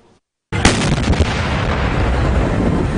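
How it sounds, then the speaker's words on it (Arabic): A loud blast erupts suddenly after near silence and is followed by a sustained rumbling roar and crackle, heard near the site where explosions struck by Cairo University. "هزت 3 انفجارات محيط جامعة القاهرة في خلال ساعتين بالقرب من ميدان النهضة"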